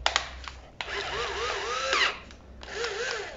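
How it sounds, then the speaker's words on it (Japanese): An Iris Ohyama impact driver runs in short bursts, its motor whining and pitch sweeping up and down between brief stops, heard close and fairly quiet with no talk. "アイリス大山のこのインパクトドライバー。"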